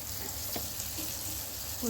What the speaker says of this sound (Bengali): বেগুন ভাজায় অনেক তেল লাগে